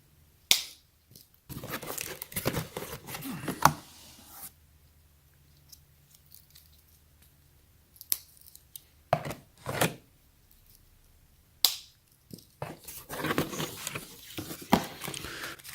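Cardboard packaging of a 7-quart oval Crock-Pot slow cooker being cut and torn open, with sharp slicing, scraping and crinkling bursts separated by quiet gaps and brief speech.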